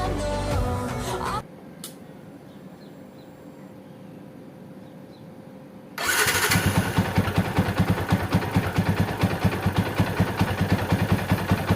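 A repaired Yamaha Vixion motorcycle engine with a bore-up and one-way starter motor fires up after a quiet pause and settles into a loud, steady idle with a rapid, even pulsing beat close by.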